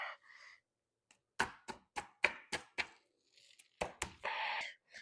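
Knife driven into the head of a big lobster in a home kitchen, a series of sharp, crisp crunching cracks and knocks in quick succession, with short scraping sounds before and after.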